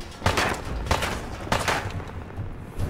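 Gunfire in the video game Fallout 4: several sharp shots crack in quick succession, about four distinct bursts over a few seconds against a noisy background.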